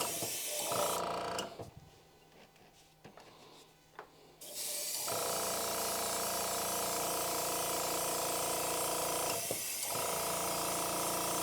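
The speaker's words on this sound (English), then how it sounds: "should be getting my last coat of black tempera paint on now." Aerosol can spraying a coat of black tempera paint onto a glass mug, a steady close hiss that pauses for a few seconds and resumes, ending with a brief break, with no talking.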